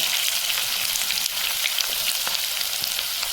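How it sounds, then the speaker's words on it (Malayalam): Chopped onions and green chillies hit hot oil with mustard seeds for potato mezhukkupuratti, giving a dense, bright sizzle with faint crackles, close and continuous with no voices. "നമ്മൾ അതിലേക്ക് നേരത്തെ ചെറുതായിട്ട് അരിഞ്ഞു വെച്ചിട്ടുള്ള നമ്മുടെ ഉള്ളിയും അതുപോലെ തന്നെ പച്ചമുളകും കൂടി ഒന്ന് ചേർത്ത് കൊടുക്കുകയാണ്"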